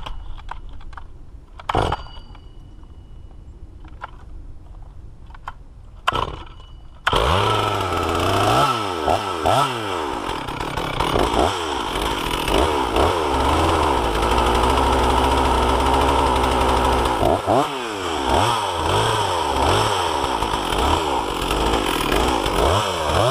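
A Stihl MS460 chainsaw cuts low into large stumps: a few sharp knocks and rattles in near silence, then the saw roars loud and close, its pitch rising and falling as the chain bites through wood.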